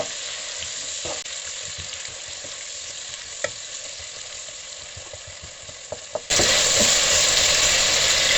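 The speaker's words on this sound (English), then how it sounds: "Just give it a good stir." Jollof rice sizzles and fries in hot oil in a pot as it is stirred, a loud continuous crackling hiss with occasional scraping clicks of the spoon, growing brighter and louder near the end.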